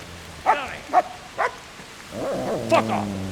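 Dog barking in the medieval video game Kingdom Come: Deliverance, three sharp barks in a row followed by a longer whining, yelping stretch, fairly close and loud over a faint background hiss.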